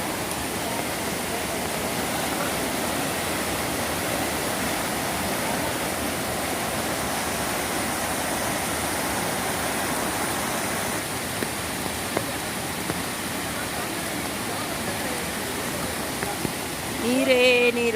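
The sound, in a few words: flooded Palguni river flowing strongly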